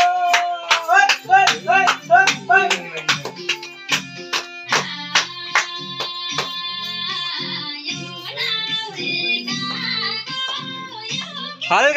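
Guests clap together at a wedding, first in a quick burst of loud, rhythmic claps, then giving way to festive music and voices chanting along.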